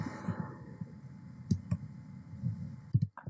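Keys clack on a computer keyboard as an introduction is typed into an ePortfolio, a scattered run of soft, close clicks against a quiet room tone, without speech.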